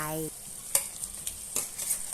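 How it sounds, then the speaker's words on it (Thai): Steady hiss of chicken frying in red curry paste in a pan, with a few sharp scrapes and clinks of a utensil stirring at irregular intervals. "จากนั้นให้ใส่ไก่ที่เราหั่นเตรียมไว้ลงไป"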